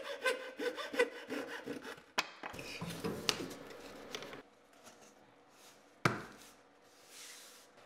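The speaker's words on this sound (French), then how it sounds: "tu découpes avec une scie à fines dents la lame dans l'espace le plus court" A fine-toothed hand saw cutting a cork floor plank rasps in quick, rhythmic back-and-forth strokes close by, then stops, followed by a few knocks and quieter handling noises.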